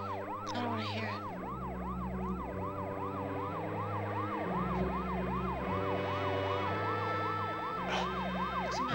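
An ambulance siren, heard from inside the ambulance, wails in a steady, repeating rising-and-falling cycle, loud and continuous over a low musical bed, with no talk.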